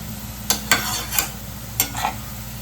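Onions fry in a pot for Kolkata-style mutton biryani under a soft, steady sizzle, while a utensil scrapes and stirs in several distinct strokes.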